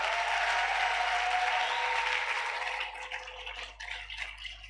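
A church congregation applauding during worship, a dense sustained wash of clapping that thins and becomes more scattered toward the end.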